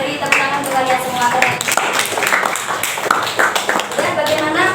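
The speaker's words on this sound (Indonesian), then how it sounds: "Beri tepuk tangan untuk kalian semua" Classroom of students clapping, quick irregular hand claps overlapping with voices and chatter, loud and close throughout.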